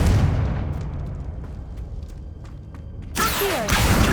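A deep booming blast from the Confringo spell in Hogwarts Legacy opens loud and decays into rumble, then a second sharp burst of crackling, hissing magic erupts near the end.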